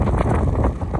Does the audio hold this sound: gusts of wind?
yes